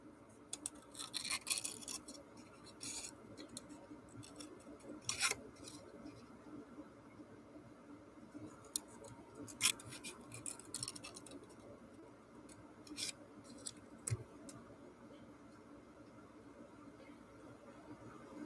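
Scattered sharp snips and crisp clicks of scissors cutting paper scraps for a craft mask, several in quick bursts with pauses between, close by over a faint background hiss.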